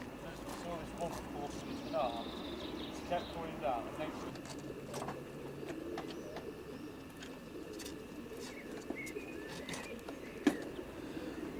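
Racing pigeons, about 2,000 gathered at a race liberation site for a long-distance race, cooing softly in a low continuous murmur under outdoor ambience, with scattered chirps and a brief sharper sound near the end.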